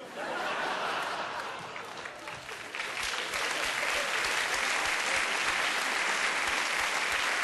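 A TV cabaret audience breaks into sustained applause, dense clapping swelling and holding loud to the end, with a few laughs mixed in.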